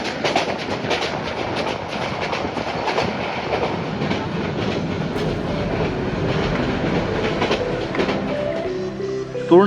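The Turna Express, an intercity train running at night between Dhaka and Chattogram in Bangladesh, rumbles along the tracks with steady clickety-clack wheel rhythm, heard loud and continuous from on board.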